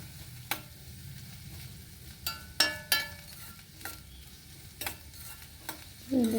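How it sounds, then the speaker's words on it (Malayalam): Green beans and onion frying in a pan, a low steady sizzle with scattered clicks and taps from stirring, quiet and close, no voices. "ബീൻസും പതുക്കെ വാടി കഴിയുമ്പോൾ അതിലേക്ക് സവാള ഇട്ട് കൊടുക്കണം"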